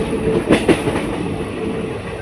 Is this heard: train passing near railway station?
yes